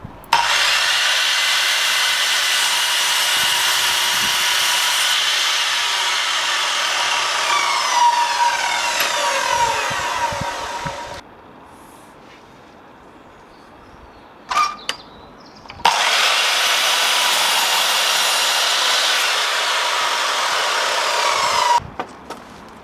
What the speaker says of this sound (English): I start by cutting all the timber for the first wall.